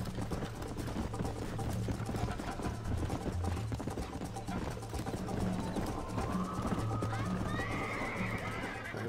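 A horse in Red Dead Redemption whinnies over a steady clip-clop of galloping hooves, with voices talking faintly in the background.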